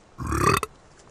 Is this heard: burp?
yes